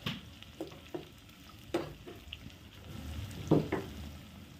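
Onions fry in a pan of hot oil for chicken biryani, a steady sizzle broken by scraping stirs and clinks of a spoon against the pan, close and continuous.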